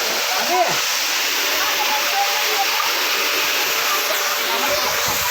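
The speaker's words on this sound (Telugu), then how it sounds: "వాటర్ ఫాల్స్ ఒక సౌండ్ ఇదండి వాటర్ ఫాల్స్ ఎంత బాగా వస్తుందో" Waterfall at a resort in Bengaluru, a constant, dense hissing roar of falling water that stays loud and even throughout, with faint voices underneath.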